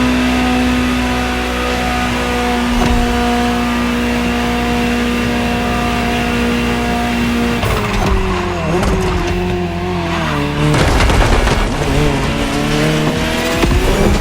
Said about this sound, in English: just enjoy the collector's piece that is the Gran Turismo Omologato, or like Mr. Pignatti Morano said, simply GTO.